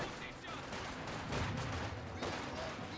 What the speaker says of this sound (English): MG42 firing away, suppresses down the conscripts.